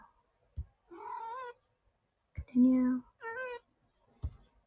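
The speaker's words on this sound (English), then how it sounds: "That's my cat." A cat meows several times in drawn-out, wailing cries, close by, with a brief spoken word and a few soft knocks between them.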